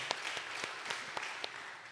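A church congregation claps during a Sunday worship service, giving a short burst of brisk, fairly even applause that sounds somewhat distant in a reverberant room.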